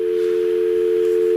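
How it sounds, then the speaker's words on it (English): A steady, unbroken external-line dial tone from a Norstar phone system hums at one even pitch, clear and fairly loud, with nothing else audible. "The dial tone's a little bit louder than the normal intercom dial tone."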